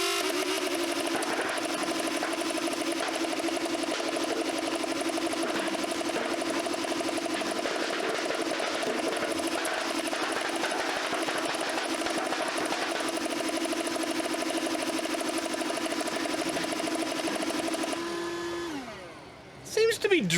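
A motorized foam dart blaster built into a proton pack, firing continuously in a fast, steady buzzing whir of motors and rapid dart launches, loud and unbroken before it winds down near the end.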